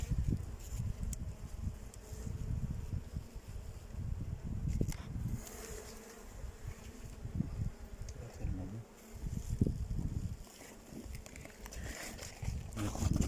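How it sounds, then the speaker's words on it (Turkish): Honeybees buzz in a steady low drone around the listener, with rustling and handling noises mixed in throughout. "Hala arı sarıyoruz."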